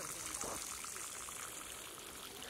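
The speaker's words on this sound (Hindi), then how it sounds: "यहाँ नीचे जो है ये बर्फ पिघल के पानी निकल रहा है।" Melting snow water trickling out from below an igloo, a faint, continuous watery hiss and dribble heard up close against a soft outdoor background.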